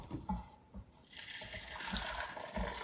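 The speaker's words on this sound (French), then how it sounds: "je verse le tout dans ma casserole" A custard mixture of hot milk being poured into a saucepan for a strawberry tart; a soft, faint liquid trickle and splashing runs continuously alongside a few low bumps.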